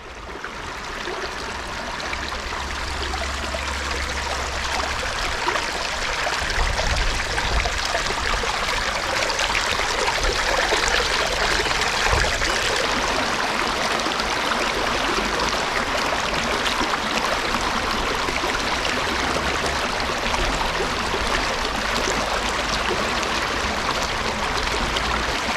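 Steady rushing and trickling of a shallow river flowing around someone wading across in wellies near a rubbish dump, continuous and fairly loud with no talk.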